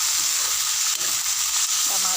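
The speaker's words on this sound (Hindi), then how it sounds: "टमाटर लगी अभी तलावन दे, हल्का से डाल देते नमक।" Tomatoes frying with salt in a pan: a steady, bright, close sizzle and hiss with no pauses through the short stretch.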